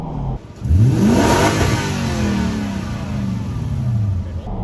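Car engine revving hard for a burnout in a zip ties and bias ply tire challenge, rising loud and close, then holding a high steady roar after a brief dip at the start.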